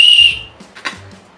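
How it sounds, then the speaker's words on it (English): An emergency whistle kept in a travel bag gives a single loud, shrill blast up close, followed by faint handling clicks and rustles. "Now I have my flashlight and whistle."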